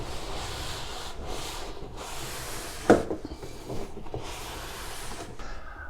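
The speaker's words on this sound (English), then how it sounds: "Let's clean up this wall first," Gritty scrubbing and rubbing against a lower back wall comes in a series of soft, close strokes with short pauses, one sharper knock midway, and no talking.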